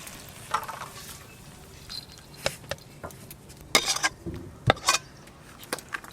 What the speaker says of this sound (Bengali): গরম মশলা গুঁড়ো দেবো। এবার একটু ভালো করে মিশিয়ে ঢেলে নেব।